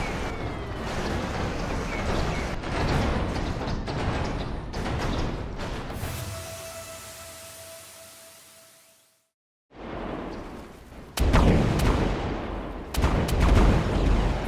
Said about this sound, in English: Today, we're focusing on explosions.